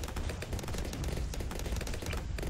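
Rapid, continuous automatic dartling gun fire in Bloons TD 6, a dense rattling burst that keeps going without pause at steady loudness.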